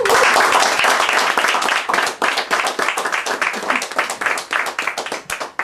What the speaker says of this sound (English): The same clapping applies here too.